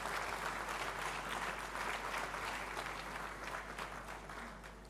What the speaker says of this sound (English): A louder round of applause for Professor Mcleod.